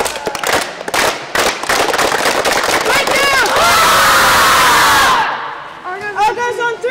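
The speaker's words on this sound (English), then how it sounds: "Everybody one hand together like this and say Argos on three." A boys' ice hockey team shouting a loud chant together in unison, a dense burst of massed voices filling the space, preceded by scattered claps and shouts and followed by quieter talk.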